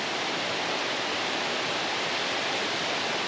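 Sol Duc Falls in the lush forest of Olympic National Park roars as a steady, dense wash of falling water, loud and unbroken throughout with no voices.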